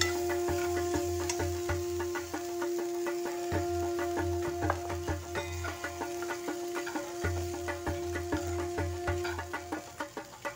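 Okra for a fasting-style bhendi bhaji is stir-fried in a pan with crushed peanuts added, giving a soft steady sizzle with repeated scraping and stirring clicks, moderately quiet and without talk.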